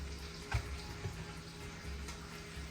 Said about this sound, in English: I'm gonna rinse this lettuce off really quick.